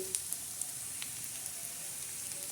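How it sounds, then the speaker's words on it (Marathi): Masala tempering sizzles in hot oil over onions while cooking a spicy wheat kurdai crumble: a steady, close, broadband crackle with a few sharper pops and no voices. "मसाला असं चांगला कांद्यावर परतून घ्यायचा हवा आता छान असा तडका बसलेला आहे"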